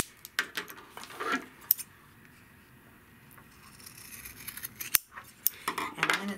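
Scissors cut fabric along a drawn line for a paisley belt bag, making a few sharp close snips and crisp blade sounds separated by quiet stretches, with no talking.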